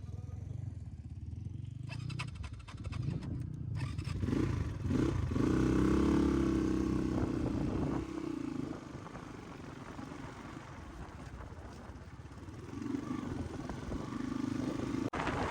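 A Crossfire dirt bike climbs a hill in Upper Mustang, its engine roaring and revving hard under load with rattling clatter. The motor swells loudest midway, eases off, then surges again near the end.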